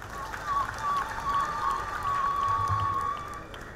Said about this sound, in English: I ask you to clap for our postulator general